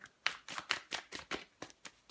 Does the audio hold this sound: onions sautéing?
no